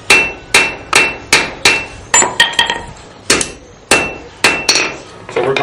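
A blacksmith at Fort Gaines on Dauphin Island, Alabama hammers metal on an anvil: about a dozen loud, ringing strikes in a steady rhythm, with a quick run of lighter taps midway and no speech.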